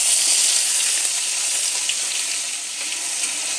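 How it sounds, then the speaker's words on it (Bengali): Chopped onion, ginger and green chilli with curry leaves fry in a pan for a sweet potato dish, giving a steady, close, loud sizzle that holds evenly throughout without any talk. "সব কিছু একটু ভালো করে ভাজা করে নেব।"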